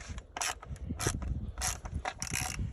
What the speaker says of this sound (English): Now you bolt it back in.